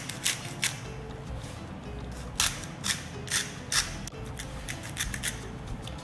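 A hand salt grinder cranks over salt in a kitchen, giving quiet, crisp ratcheting crunches in short irregular bursts with brief pauses between them.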